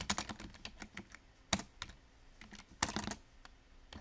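Keystrokes on a computer keyboard while filling in a Facebook lead generation form, in irregular close bursts of clicks with brief pauses between them, and no talking.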